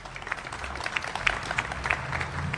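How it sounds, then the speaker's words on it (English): Applause from an audience at a public transit announcement event at Brick Church Station, a steady patter of many hands clapping at moderate volume for a few seconds, with no voices over it. "So give them a round of applause for that."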